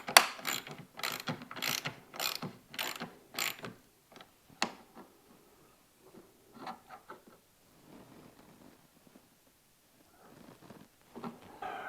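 A ratcheting screwdriver fastens screws on snowmobile tunnel flares, giving a series of close clicking ratchet bursts in a steady rhythm, then quieter scattered clicks and handling noises with pauses.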